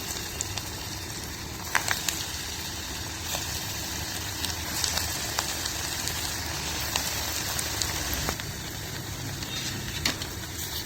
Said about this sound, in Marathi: आता वडे तळू सुरू करता